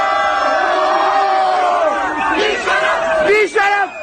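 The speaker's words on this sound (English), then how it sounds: "They're booing that guy for starting to walk down the steps." A large crowd boos and jeers at a man starting down a flight of steps, a loud, steady wall of massed voices with rising shouts and whoops near the end.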